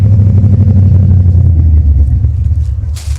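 A 1997 Ford Mustang GT V8 idles with a loud, close, lumpy rumble, then sags and falls away as it begins to stall.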